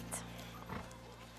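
A horse's hooves clip-clop faintly at a distance, with a brief whinny, beneath a low steady background hum in a stable setting.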